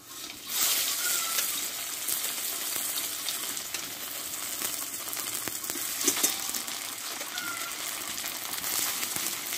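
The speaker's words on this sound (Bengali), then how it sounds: "এবার দেবো একটু ধনে পাতা কুচি দিয়ে একটু টিফিনগুলো আমি ভালোভাবে একটু ভেজে নেব" Semolina-stuffed tiffin snacks fry in hot oil with a steady, close sizzle and bubbling that runs the whole time, broken by a few soft stirring scrapes.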